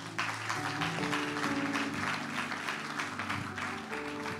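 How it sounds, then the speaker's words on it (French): A church congregation at a French-language prophetic sermon applauds and cheers loudly and steadily, with a dense clatter of clapping over a sustained organ or keyboard tone. "Acclame très fort."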